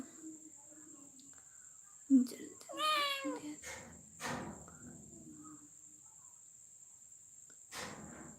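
A cat gives a drawn-out, wavering meow close by in a quiet room, followed by a few softer rustles and short sounds.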